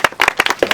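A crowd at a Nuit Debout street gathering at the Bastille claps in a short burst of distinct, close claps.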